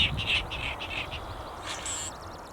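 Virginia rails and soras calling in a marsh, a string of short squeaky chirps and quacking squawks, fairly close over a steady low background rumble.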